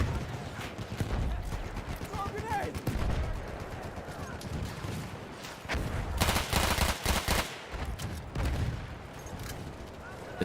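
Rapid bursts of Tommy gun fire crackle in a video game battle, dense rattling volleys repeating in clusters amid chaotic background action, with a voice talking over parts of it.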